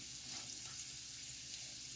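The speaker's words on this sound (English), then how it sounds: "now you hear it sizzling. You hear that sizzle. That's a happy sizzle sound." A soft, steady hiss of food frying in oil, continuous crackling sizzle heard quietly up close with no voices.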